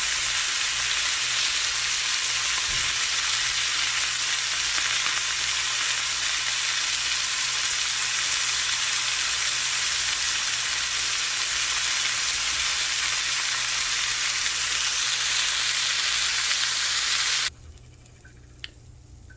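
Chicken sears in a frying pan while a healthy Marry Me chicken dish is being cooked, a loud steady sizzle and crackle that runs continuously before dropping off abruptly near the end, leaving only faint quiet.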